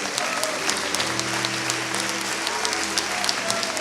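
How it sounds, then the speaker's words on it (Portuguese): A church congregation claps in a steady, dense round of applause that fills the whole moment, close and loud, with a low voice or organ tone faintly beneath. "Receba as nossas palmas, ó Pai Celestial,"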